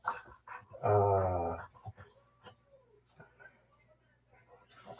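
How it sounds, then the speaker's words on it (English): A dog whimpers close by with one loud, drawn-out whine followed by fainter, thin whines, while someone briefly speaks and a few soft knocks sound in a quiet room. "our dog is sitting right next to me right now"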